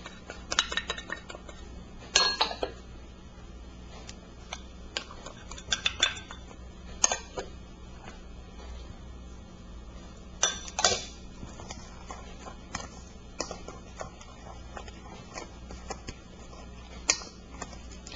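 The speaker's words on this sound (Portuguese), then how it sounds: "Vou acrescentar todos os ingredientes secos em uma tigela e misturar bem com uma colher." A spoon stirs dry ingredients in a bowl for a tiger bread topping, giving scattered light clinks and scraping taps at irregular intervals over a quiet background.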